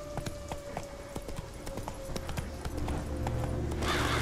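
Hooves of the horse Roach in The Witcher 3 video game clip-clop in a steady rhythm that grows louder and denser toward the end, under game ambience with no speech.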